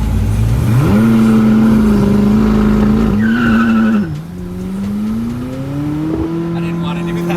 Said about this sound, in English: I was hoping my tires were hot. I've never really squealed them like that on launch